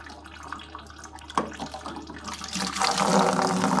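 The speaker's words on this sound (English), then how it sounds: "We'll open the lid on the radiator." The radiator cap on a Volvo BM 500 tractor is twisted open with a sharp click, followed by a swelling, rushing hiss of released coolant pressure that grows louder toward the end.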